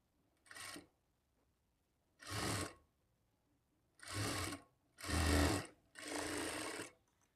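A sewing machine stitches a blouse lining in five separate short bursts of whirring, each about half a second to a second long, with quiet gaps between them and no talking.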